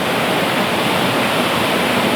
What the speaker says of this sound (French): la cascade elle est très très forte